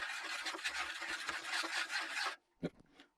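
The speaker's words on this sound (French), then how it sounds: "On va touiller avec notre meilleur tournevis." Screwdriver stirring black plastic dye in a container, a steady close rasping, scraping rub for about two seconds, then a pause and a couple of brief knocks.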